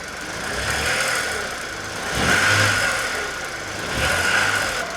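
A Ford Ka engine idling roughly and being given a few short revs, the steady mid-pitched engine note swelling in two gentle surges and dropping back, heard close with no talk.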